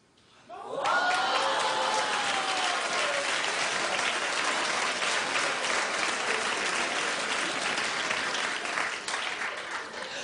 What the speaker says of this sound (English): I don't know what they're clapping at, Starla.